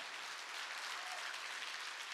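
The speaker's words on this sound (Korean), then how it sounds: "박수 쳐줘요" A congregation applauding at an evening church revival service on a mountain retreat: a dense, even wash of many hands clapping, heard somewhat distant and soft, with no voices standing out.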